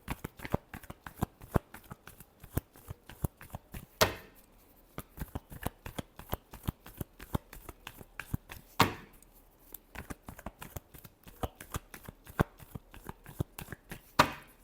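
A deck of tarot cards is shuffled by hand in quick, crisp riffles and taps, close and dry, with a few sharper snaps where the cards are squared or split.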